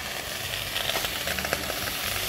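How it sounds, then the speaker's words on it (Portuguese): Milk poured gradually into a hot pan with cooking chicken, giving a steady, bright sizzle and hiss with small crackling pops, close and fairly loud, no voices. "Eu vou adicionando o leite aos poucos."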